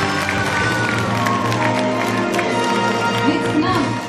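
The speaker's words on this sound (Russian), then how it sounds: "поприветствуем громкими аплодисментами" A large audience in a hall gives loud, sustained applause with scattered cheers, a dense, steady wash of clapping that holds for several seconds, with some background voices mixed in.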